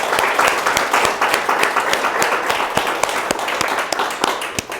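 Audience at a National Trust fund event for the Pilgrimage Project gives steady, dense applause, many hands clapping close and loud with sharp individual claps standing out throughout.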